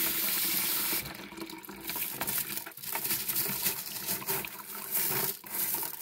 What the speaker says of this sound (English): I usually rinse these until the water in the bottom here runs pretty clear.